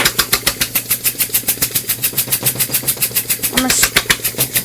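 A small air-powered engine runs with its exhaust fully restricted, giving a steady rapid train of sharp pulses, loud and close, with a brief hiss near the end.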